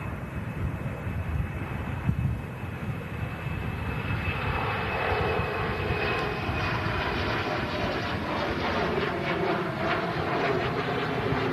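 TAP Express airliner taxiing at an airport before departing for Lisbon, its jet engines producing a steady rumbling roar with a thin high whine, moderately distant and continuous, slowly swelling with no speech.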